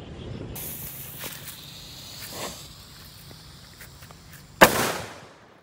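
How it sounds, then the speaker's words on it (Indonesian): Happy Flower rose firecracker going off outdoors: a long steady fizzing hiss with scattered crackles, then a sharp loud burst near the end that quickly fades away. "Happy Flower bunga mawar. Kita lihat reaksinya."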